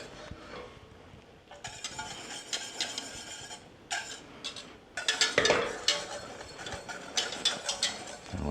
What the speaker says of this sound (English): if you give it a bit of a stir, it will pull that foam right back down to its liquid